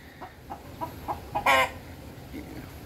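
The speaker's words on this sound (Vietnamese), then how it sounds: "Đang thiến gà nhé cả nhà nhé." A chicken being castrated clucks in a short rhythmic series of soft calls, then lets out one louder squawk, against a noisy outdoor background.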